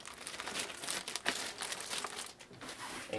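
A box holding a Firefly Borealis illuminated keyboard is opened, with steady close crinkling and crackling of packaging material and brief tearing bursts throughout.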